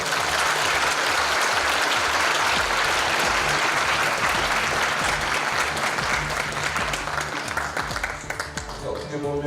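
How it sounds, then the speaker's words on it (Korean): An auditorium crowd at a medical school vision presentation breaks into loud, sustained applause, dense clapping from many hands with a rhythmic low thump and faint voices underneath, fading toward the end. "박수 한번 부탁드립니다."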